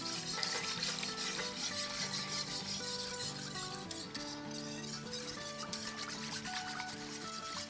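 Milk is poured into a custard mixture of egg yolks and whisked in a bowl, a steady close rasp of whisking with faint liquid swish and light clinks, continuous and fairly quiet with background music.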